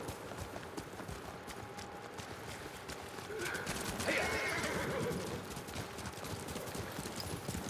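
Horses whinny loudly while hooves gallop steadily underneath, amid a busy, constant rumble of background noise, in the video game Ghost of Tsushima.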